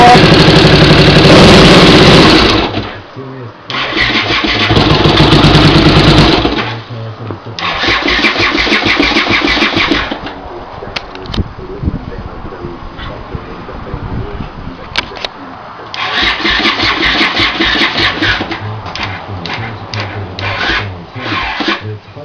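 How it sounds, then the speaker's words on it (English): A Honda CX500 motorcycle with aftermarket mufflers runs with a misfire, revving loudly in several bursts and dropping to an uneven idle between them, close by, with someone speaking briefly. "Unfortunately, bike's still running with a misfire."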